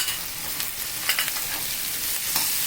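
Masala for fried rice sizzles and fries in a pan, a steady hissing crackle with a few brief stirring scrapes, close and moderately loud, with no talking.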